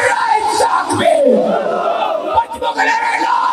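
A large protest crowd outside Islamabad Press Club chanting back in unison to a Takbir call, loud massed voices forming a sustained roar.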